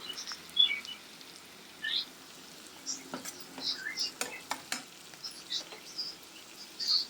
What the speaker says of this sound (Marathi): बटर वितळले की त्यामध्ये 1 मोठा कांदा चिरून घाला. कांदा ट्रान्सलुसंट होऊ द्या.